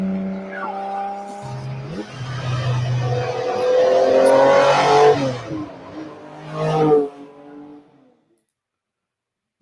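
A performance car engine revs hard, climbing through rising, sweeping pitches to a loud peak, then bursts again briefly before cutting off into silence.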